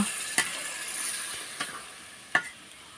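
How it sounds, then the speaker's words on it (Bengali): Goat meat with spices sizzling in a pan while being stirred, a steady frying hiss broken by a few sharp scraping taps of the spoon. "মশলার সাথে মাংসটা ভালোভাবে মিক্সড করব।"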